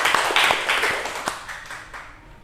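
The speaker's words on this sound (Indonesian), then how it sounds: "Tepuk tangan dulu untuk Mas Danu." A small group claps and applauds for a couple of seconds in a microteaching class, the clapping gradually thinning and fading out.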